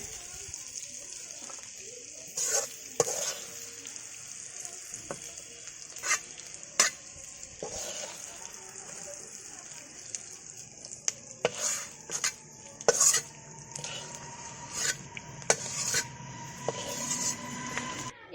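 Food sizzles steadily in a pan while a utensil scrapes and clinks against it in irregular strokes, close by.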